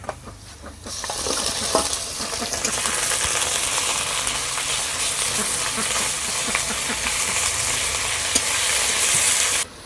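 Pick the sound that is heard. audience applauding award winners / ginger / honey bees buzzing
ginger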